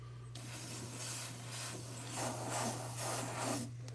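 Short bursts of spray paint hiss onto parts in a steady rhythm, about seven close puffs separated by brief pauses, with a constant low hum underneath.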